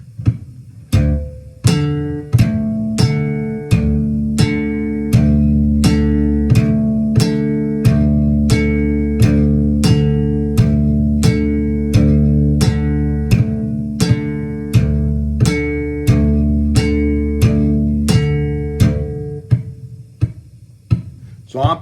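A bass guitar plays steady, evenly spaced plucked notes over a loop running on a TC Electronic Ditto looper pedal, each attack sharp and ringing with a deep sustained tone, close and loud for about twenty seconds.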